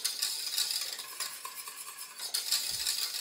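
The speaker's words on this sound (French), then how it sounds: "on remet le gaz et on vient remuer jusqu'à ce que ce soit à ébullition" A saucepan of egg mixture being stirred over the gas until it boils: continuous close whisking and scraping against the pan with a light sizzle beneath, rhythmic and unbroken.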